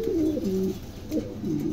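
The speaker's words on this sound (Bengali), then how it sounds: "চমৎকার এক জোড়া কবুতর," A pair of Lahori pigeons coo close by in soft, low, rolling phrases, two or three calls repeating in a gentle rhythm with no talking over them.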